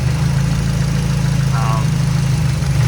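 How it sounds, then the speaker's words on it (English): A turbocharged Nissan Silvia S14 idles steadily at close range, a constant low engine drone with a faint brief mechanical whine partway through. "Alright, the engine's running smoother now."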